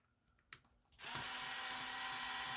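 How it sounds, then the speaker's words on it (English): A screw gun tightens screws on an HPI Savage RC truck transmission. A couple of small handling knocks come first, then the tool starts up into a loud, steady whir that lasts to the end. "I just gotta tighten up all the 3 screws on top"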